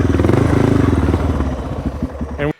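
A Suzuki DR650 dual sport motorcycle labors up rocky off-road terrain in Moab, Utah, its single-cylinder engine thumping loud and close with uneven pulses, clattering over rocks before cutting off abruptly.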